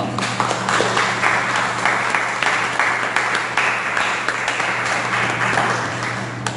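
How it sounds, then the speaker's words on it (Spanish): A church congregation claps loudly together during a morning sermon. The applause is dense and steady, sharp individual claps stand out, and it tapers slightly toward the end with no voice over it. "al que le damos un fuerte aplauso en esta mañana"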